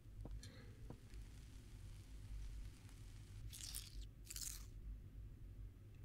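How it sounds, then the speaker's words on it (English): Crunchy chewing of soup in the game The Stalked 2, soft rhythmic mouth crunches over a low room hum, with two louder crisp crunching bursts near the end. "Why was my soup crunchy?"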